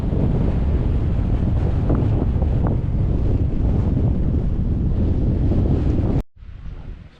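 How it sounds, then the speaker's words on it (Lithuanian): Wind blows hard through the snowy Austrian mountains, a loud, steady roar buffeting the microphone for about six seconds before cutting off sharply and returning as a quieter, fading rumble. "Vėjas biški pūstelėjo."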